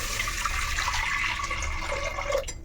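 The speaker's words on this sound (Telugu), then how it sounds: "ఇప్పుడు ఇందులో మనం వాటర్ వేసేసుకోవాలి" Water poured into a cooking pan while making an oil-free bottle gourd curry, a steady continuous liquid rush and splash that stays loud throughout and cuts off abruptly near the end, with no voices.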